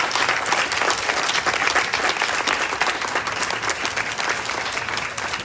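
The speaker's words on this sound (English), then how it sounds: "So I'd like to have also a round of applause for the staff here." A round of applause for staff at a ribbon cutting ceremony, dense steady clapping from a gathered crowd that holds evenly throughout with no talking.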